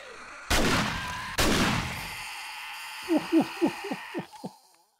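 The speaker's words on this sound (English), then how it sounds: "oh, this shotgun is insane" In 7 Days to Die, a shotgun fires two loud, booming blasts about a second apart, each ringing out into a long decay, followed by a quick run of sharp mechanical clicks.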